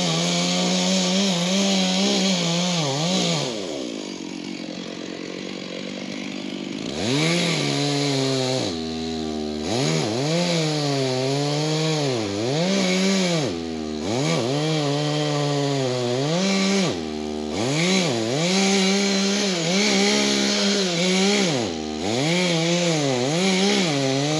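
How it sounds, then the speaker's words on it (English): A chainsaw cuts down a tree, its engine loud and close and repeatedly revving up and bogging down under load across a long stretch, with brief drops to idle between cuts. "So I'm going to take chainsaw, cut that tree down"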